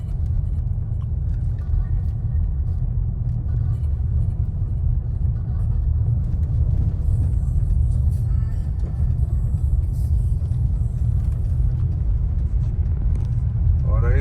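A car drives slowly through Berlin streets at about 30 km/h, heard from inside as a steady, loud low engine and road rumble with faint higher noise on top.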